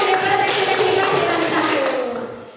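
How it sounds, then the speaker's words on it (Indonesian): Applause for the teachers at a school session rings out as a brief burst of clapping, steady then fading toward the end, with a faint tonal hum underneath. "Tepuk tangan buat Bapak Ibu guru"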